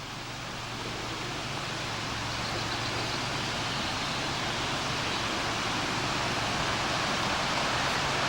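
Water rushes over rocks in a small burn in a narrow valley near Balquhidder, a steady broad hiss that holds constant and fairly loud for the whole stretch, with no voices.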